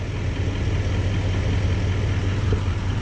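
An L5P Duramax diesel truck engine without its air filter runs steadily on a dyno, a loud, constant low rumble with a deep droning hum and no talk.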